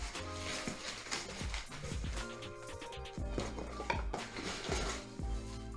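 A wok and steamer basket being lifted out of a box, with metallic clanks, knocks and rattles of cookware against packaging, close and busy in quick irregular bursts.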